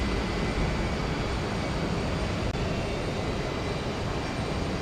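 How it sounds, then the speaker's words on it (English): Jet airliners take off on parallel runways at Houston Intercontinental airport, their engines a steady, distant roar that stays even for the whole stretch with no talk. "So taking off on parallel runways here."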